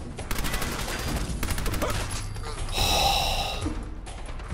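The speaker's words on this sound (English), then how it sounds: "maybe I'm not such a crack shot with the submachine gun as I thought" Submachine gun fire in a video game comes as dense, rapid bursts of shots over a loud game soundtrack, with a short louder volley near the middle.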